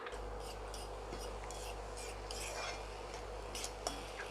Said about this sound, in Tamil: வாழைத்தண்டு நல்லா சுருளை வதங்கணுங்க நிறைய நேரம் பொறுமையாக நல்லா வதக்குங்க